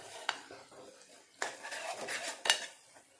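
Spices for pav bhaji being stirred and mixed in a pan, a few sharp clinks of a spoon against metal over a low scraping, fairly close, with no talk.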